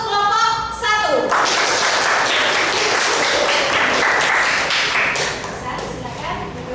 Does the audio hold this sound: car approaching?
no